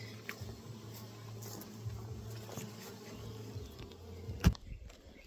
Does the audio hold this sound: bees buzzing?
yes